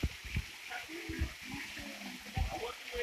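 A waterfall on the Zhane River near Vozrozhdeniye: a steady, broad rush of falling water fills the whole clip, with splashing and low thumps and a voice briefly heard.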